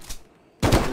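Burst of rapid gunfire from a weapon in the Bigfoot video game, a sudden loud salvo of close shots starting partway through after near silence.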